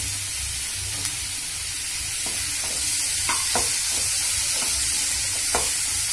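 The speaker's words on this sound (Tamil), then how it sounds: "இப்போ கூடவே இந்த தக்காளி போட்டுக்கலாம்" Tomatoes and green chillies being sautéed in a pan, giving a steady close sizzle with occasional stirring scrapes and clinks throughout, no talking.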